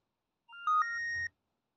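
A Fitbit Inspire 3 find-phone feature sets off a short electronic ringtone on the phone, a quick run of bright rising chime notes under a second long, clean and fairly close.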